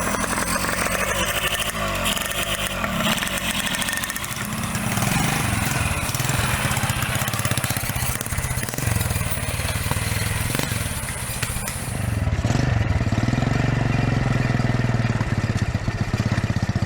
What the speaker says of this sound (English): Specially modified motorbikes are fitted with heavy chains to give them additional traction in the mud